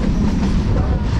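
Steady low rumble and rattle of a South Indian railway carriage in motion, continuous and close, with no voices over the rolling noise.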